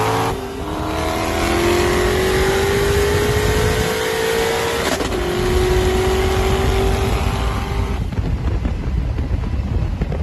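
Turbocharged Dodge Hellcat accelerating hard in a race against a Corvette ZR1, its engine roaring loud and close with rising pitch through long gears, a brief break around a shift midway, wind buffeting throughout.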